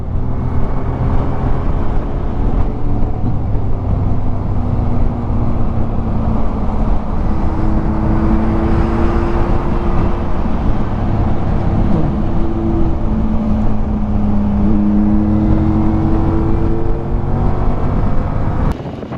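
Steady roadside traffic of many cars and trucks on a Saturday in La Union, a continuous loud rumble with passing engine drones and wind buffeting the microphone, no talking.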